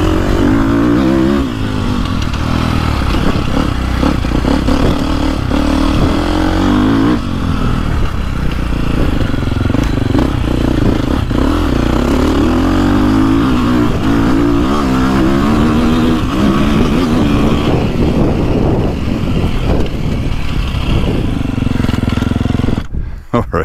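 A 2024 Beta 450RX or 2024.5 KTM 450 Factory Edition dirt bike is ridden hard, its engine loud and close, revving up and down in repeated surges and shifts throughout.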